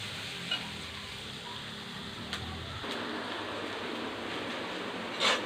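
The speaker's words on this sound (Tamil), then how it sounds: "வெங்காயம் நல்லா கோல்டன் ப்ரௌனாக வதங்கணும்." Chopped onions sizzle and fry steadily in a pan alongside cluster beans, a soft continuous crackle with a couple of faint stirring clicks, no voices.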